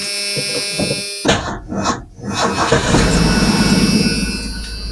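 A car engine with a faulty starter cranks in repeated grinding bursts, stalls briefly, then catches into a loud, steady running roar close by.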